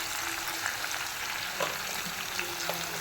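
Vegetables with turmeric and salt fry in a pan, giving a steady bright hiss and sizzle with scraping stirs and occasional spatula clinks, close by and moderately quiet, with no voices.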